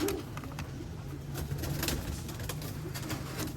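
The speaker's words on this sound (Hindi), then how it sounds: "ये टेडी फीमेल है और बुलेट कबूतर है ख्वाजा साहब का" Soft, low cooing from Teddy pigeons repeats under a steady background hiss, with occasional faint clicks and rustles nearby.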